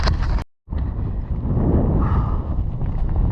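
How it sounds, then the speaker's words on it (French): A cold wind gusts across the Hardangervidda plateau and buffets the microphone with a loud, rumbling roar. There is a brief cut near the start, then the roar runs steady and close. "Un petit vent se lève, bien glacé."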